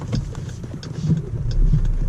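A 2018 Dodge Durango GT AWD engine restarting after an auto stop, a low mid-range rumble that swells and settles into a steady run inside the cabin, with no talk over it.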